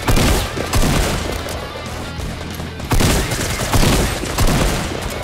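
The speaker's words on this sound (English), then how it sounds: "Shotgun." Shotgun fire in Fortnite, loud, dense, overlapping blasts with sharp onsets that crowd the clip, including a strong burst near the middle.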